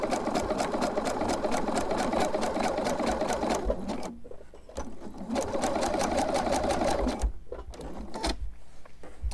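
Up close, a sewing machine stitches a fabric-wrapped rope coil trivet in two long runs of rapid rhythmic clatter, separated by a short pause filled with light handling noises and a few faint clicks.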